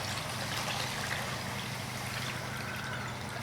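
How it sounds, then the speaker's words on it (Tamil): Water pours steadily into a pot of masala for a village-style mutton bone curry, a continuous soft splashing trickle with no talking. "இப்போ தேவையான அளவுக்கு நம்ம தண்ணி சேர்த்துக்கலாம்."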